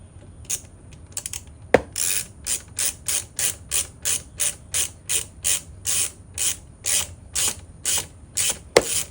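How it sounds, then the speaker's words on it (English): Ratchet tightening the bolts on a one-piece rear brake caliper of a 2007 Harley Electra Glide, a close, steady run of rapid clicking pawl bursts in an even back-and-forth rhythm, with a couple of sharper metallic knocks. "Get your ratchet. Tighten them up, boys and girls."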